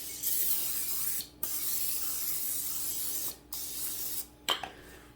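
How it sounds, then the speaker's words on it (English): Cooking spray hisses onto a baking pan in several short, close bursts separated by brief pauses. "since I already used my oil, I'm going to use some of my spray to spray the pan."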